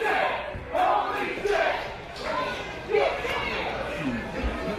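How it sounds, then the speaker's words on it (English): A large crowd at a wrestling match roars and chants in swelling waves, dense and loud, with rhythmic shouting surges throughout. "Listen to this crowd."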